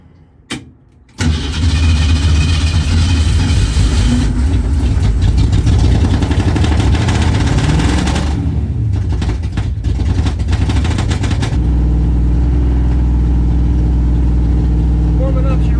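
A 1968 Ford Mustang left sitting for three decades cranks briefly and starts, then settles into a loud, rough, rumbling warm-up idle up close, the engine note shifting and easing toward the end.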